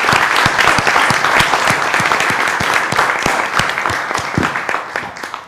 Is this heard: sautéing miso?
no